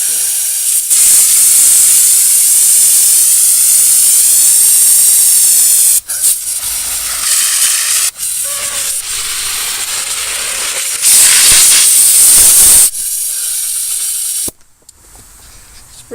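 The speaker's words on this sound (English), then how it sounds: "I'll dump it in there and I'll show you how it sprays." A pump sprayer loaded with carpenter ant insecticide hisses out a fine mist in long, loud bursts that stop and start several times, with brief gaps between sprays and no talking.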